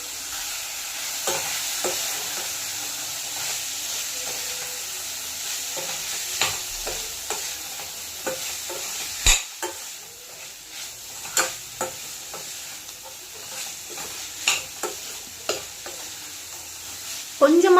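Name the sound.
stir-frying carrot, beans and cabbage for fried rice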